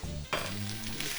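Chili and garlic frying in a pan with coriander seeds, a steady close sizzle with a brief clatter partway through and a low hum underneath.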